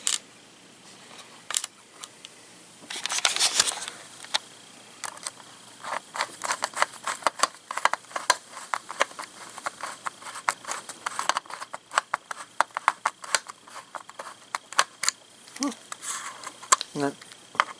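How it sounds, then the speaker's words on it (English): Small screws being driven back into a laptop case after an SSD install, heard as a close run of light, irregular clicks and ticks of the screwdriver and metal, with a brief louder rustle near the start. "Let me put the screws back on it."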